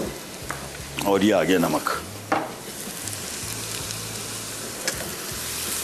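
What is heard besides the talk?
mutton and onions frying on high heat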